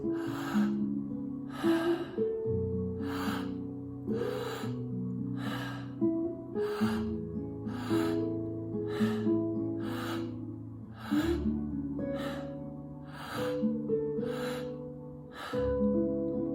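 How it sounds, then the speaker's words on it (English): Deep breathwork breathing, drawing low into the belly then high into the chest, comes as a steady series of sharp, close inhales and exhales roughly every second under a soft sustained music bed. "You're going to be breathing low belly first, high chest"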